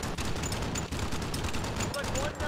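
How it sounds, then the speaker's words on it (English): Rapid bursts of gunfire crackle through a dense, continuous din in the B-17 The Mighty 8th air combat game, the shots running together under a steady roar of engine noise with no pause. "they're firing at something"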